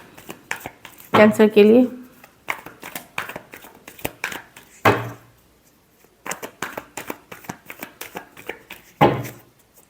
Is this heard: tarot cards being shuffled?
yes